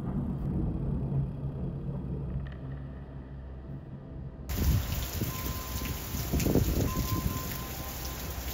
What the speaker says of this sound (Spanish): No podés salir porque llueve. Llueve ahora.